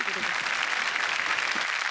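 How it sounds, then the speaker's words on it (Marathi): A studio audience at the Marathi comedy show Chala Hawa Yeu Dya claps to welcome guests, a dense, steady round of applause filling the whole stretch. "जोरदार टाळ्या दोघांसाठी"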